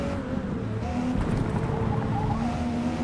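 Race cars in Forza Motorsport (2023) drive through a career-mode race, engines droning steadily with gear-shift changes in pitch and a faint tire squeal, a continuous mid-level roar with no voices.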